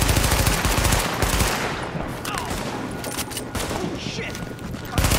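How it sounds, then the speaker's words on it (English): Rapid gunfire in Tom Clancy's The Division, a dense automatic fusillade loud at the start then continuing in bursts, with a player talking over it. "And this gun has, like, terrible recoil."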